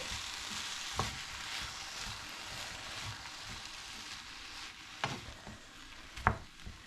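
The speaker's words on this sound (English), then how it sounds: "all I'm going to do is fry my mince off and combine my ingredients" Minced beef browning in a pan, a quiet, even sizzle throughout, punctuated by a few sharp clicks and scrapes of a utensil, with no speech.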